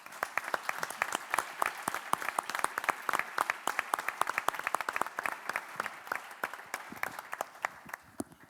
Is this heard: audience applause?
yes